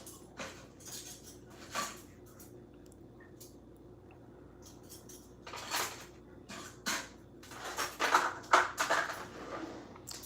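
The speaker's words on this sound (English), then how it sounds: "She banging the dishes and pots." Dishes and pots being banged in a kitchen, with scattered clinks, clatters and knocks arriving in irregular bursts that grow busier and louder toward the end.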